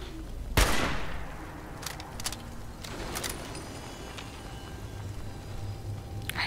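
Fallout 4 gunfire: one sharp, loud shot opens, followed by scattered quieter pops and crackles over a dull rumbling background, without speech.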